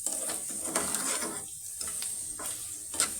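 Onions fry on low heat in a pan, a soft continuous sizzle broken by scraping, stirring strokes at irregular intervals, close and fairly quiet.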